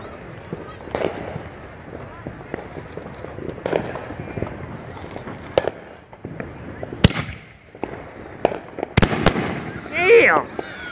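Mad Ox Double Barrel 500 gram firework cake going off in a rapid string of sharp pops and bangs, with crackling bursts and a few louder reports near the end, heard outdoors amid background voices.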